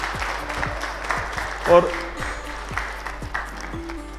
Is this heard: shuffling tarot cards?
no